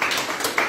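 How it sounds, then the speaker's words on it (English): A church congregation claps together, a brief dense burst of many hands in a large room, steady and fairly loud with no talk over it. "Let's clap for Jesus and be seated."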